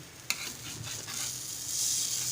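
Malvani ghavane rice crepes turned over in a pan, a sharp scrape of the spatula followed by soft sizzling that builds steadily, with no voices.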